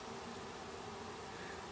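Honey bees buzz over hive comb as new bees emerge, a steady, dense, close hum without pause.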